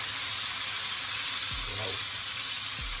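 Freshly flipped pork chops sizzle on a barbecue grill, a steady close crackling hiss with a couple of low thuds and no talking.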